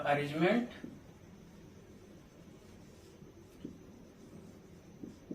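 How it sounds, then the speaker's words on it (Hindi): Marker or chalk writes a definition on a board in a biology lesson, faint scratchy strokes at intervals following a brief burst of a man's speech at the start. "तो यहाँ डेफिनेशन लिख लेते हैं।"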